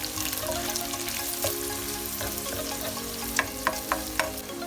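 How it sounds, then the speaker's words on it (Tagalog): Ginger and onion sauté in hot oil in a pan, giving a steady close sizzle with a few sharp spatters and stirring clicks toward the end, no voices. "pag ginisa natin, kailangan medyo kulay brown siya para yung lasay niya sasama dun sa mantika"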